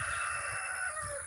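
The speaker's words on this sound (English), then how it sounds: "That rooster over there." A rooster crows from a distance outdoors in a garden, a drawn-out call that sits faint behind steady background noise with no talking over it.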